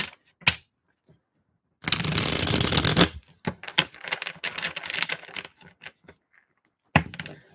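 Oracle cards are shuffled by hand, a loud riffling burst followed by a stretch of irregular soft flicks and taps, with a few isolated card snaps, close and without talk.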